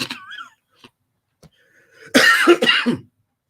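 A couple of harsh, close coughs burst out after a few quiet breathy sounds.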